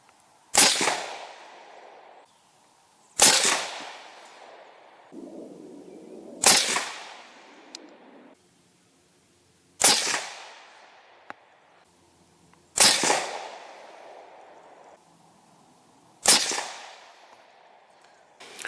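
Cold-barrel rifle shots from a 6.5 PRC CVA Cascade XT firing match ammunition, seven sharp cracks spaced a few seconds apart, each trailing off in a short echo, loud and outdoors with no talk.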